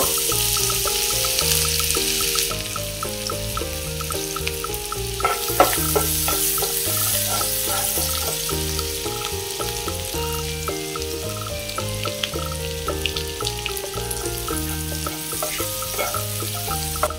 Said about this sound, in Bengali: চিংড়ি মাছ ভাজার তেলটার মধ্যে আমি আদা রসুন আর স্বাদ মতো লঙ্কা কুচি করে নিয়েছি, এটা দিয়ে দেব